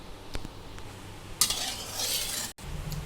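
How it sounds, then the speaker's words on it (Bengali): Potatoes fry in refined oil for a Mughlai aloo dum, a soft hiss that swells midway, with light utensil clinks and stirring in the pan, fairly quiet overall. "আমি রিফাইন্ড অয়েল দিয়ে আমি আগে প্রথমে আলুটা ভেজে নেব।"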